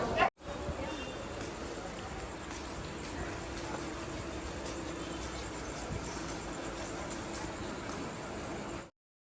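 A train rolls into a railway station with a continuous rumble and clatter of wagons, moderately loud and steady, then cuts off abruptly.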